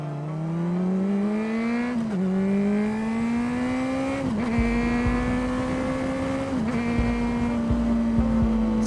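A Honda CBR600RR accelerates while riding, its engine pitch climbing smoothly and dropping sharply at three quick clutchless upshifts, loud and close, with steady wind rumble underneath.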